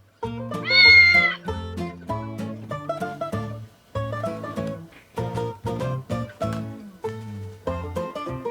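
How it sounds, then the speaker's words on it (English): Cat meowing, one loud drawn-out meow near the start, with a plucked musical tune running under it and continuing alone afterward. "Cat."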